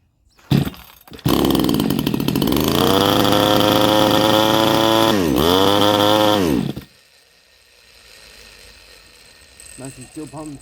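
Chinese 62cc chainsaw pulled into life: a couple of quick starter pulls, then the two-stroke engine catches and runs loudly for several seconds, revving up and dipping before cutting out, followed by quieter clatter and brief voices.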